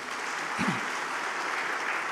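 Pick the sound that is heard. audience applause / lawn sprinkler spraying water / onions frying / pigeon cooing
audience applause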